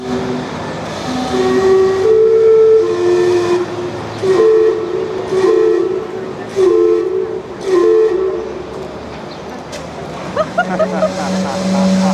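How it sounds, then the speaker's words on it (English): The steam-powered clock in Gastown, Vancouver sounds a slow tune of long, loud, harmonized whistle notes, one after another, over steady outdoor ambience and a hiss. "In Gastown, there's the world's only steam-powered clock."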